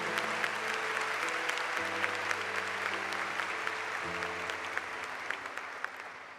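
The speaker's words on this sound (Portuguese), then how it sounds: "Pode aplaudir." Church congregation applauding during a Catholic homily, sustained crisp clapping from many hands at a moderate distance, with a low sustained organ or keyboard tone changing pitch underneath.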